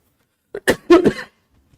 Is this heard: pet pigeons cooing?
no